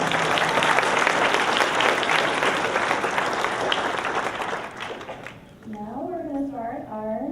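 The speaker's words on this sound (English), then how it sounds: "Give a round of applause." Graduation audience at a senior ceremony claps in a dense, steady round for several seconds, then it fades and a voice begins speaking over the quieting room.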